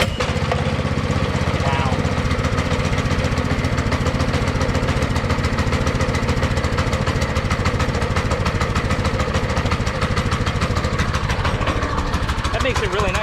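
A gasoline go-kart engine with a pull start runs steadily and loud the whole time, a continuous mid-pitched mechanical drone with a brief exclamation over it.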